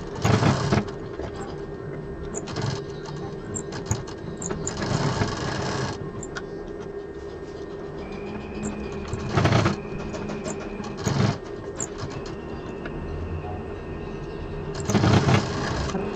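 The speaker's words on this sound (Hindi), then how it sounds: "सिलाई करके पैक कर देंगे।" A sewing machine stitches around the fabric edges of a round sling bag, running in steady stretches with a few louder bursts over a constant background hum.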